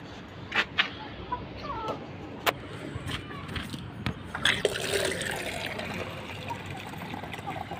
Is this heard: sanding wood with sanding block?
no